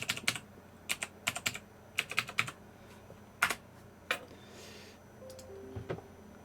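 Short bursts of keystrokes on a computer keyboard while a password is entered: crisp, close clicks in small clusters with gaps, ending in a few quieter taps and a faint electronic tone.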